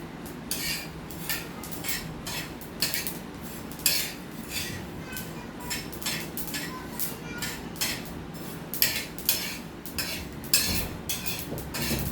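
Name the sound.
roasting niger seeds (karale) in a pan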